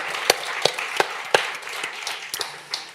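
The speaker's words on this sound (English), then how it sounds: "And should we applaud it? I want an applause." A few scattered claps from an audience at a festival awards evening, a handful of sharp, separate hand claps at a slow uneven rhythm, fairly near and modest in volume, with no talk over them.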